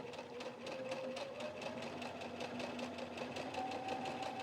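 A sewing machine stitching a picot edge runs at a steady, fast rhythmic clatter with a faint motor hum underneath, heard close and evenly without pause.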